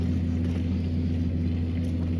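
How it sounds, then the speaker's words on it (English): A farm tractor engine runs outside, a steady, loud, low droning rumble with a constant hum and no break in its even tone. "Nice tractor."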